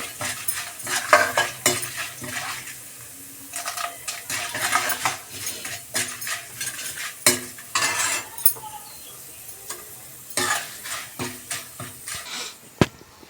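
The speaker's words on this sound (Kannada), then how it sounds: "ಈಗ ಇದು ಕಡಲೆಬೇಳೆ ಫ್ರೈ ಆಗಿದೆ" Chana dal with curry leaves fries in hot oil for capsicum chitranna, a soft sizzle under repeated scraping and clinking strokes of a spoon stirring the pan, close and irregular, with no talk.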